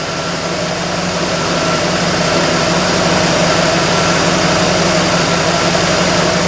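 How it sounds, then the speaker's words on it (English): An IROC-Z barn-find car engine idles while warming up during a coolant pressure check, a steady, close mechanical hum with low vibration and no talk. "So I'm going to let it idle a little longer and see if the pressure comes up"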